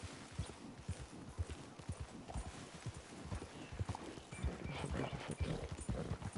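Horse hooves clip-clop in a quick, steady rhythm in a video game, close and distinct, with a faint whinny and background rustle growing slightly louder toward the end.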